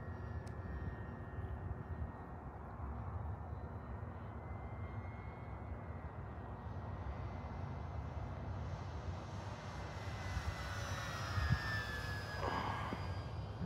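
Radio-controlled P-51D Mustang 1.2 m scale model airplane in flight on its maiden flight, a faint engine drone with pitch shifting as it passes at a distance, heard over outdoor background noise.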